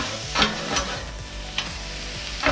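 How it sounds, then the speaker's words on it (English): Rotisserie chicken quesadilla filling sizzles in a pan while a utensil stirs it close up, with a few quick scraping strokes over steady frying. "I'm gonna mix it up, let it cook a little bit like that."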